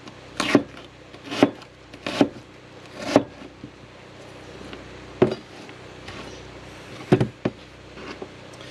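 An onion being chopped into chunks on a board for moose stew, about eight separate knife thuds at an uneven pace, close and fairly quiet, with no talking.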